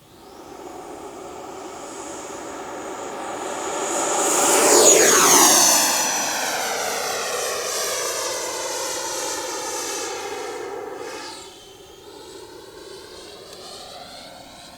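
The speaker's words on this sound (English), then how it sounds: "We're going to turn around here and do a quick takeoff with an immediate vertical climb." An FMS Avanti 90mm electric ducted-fan model sport jet takes off and climbs vertically. Its loud rising whine swells as it passes close, then drops in pitch as it pulls away and fades to a steadier, more distant roar.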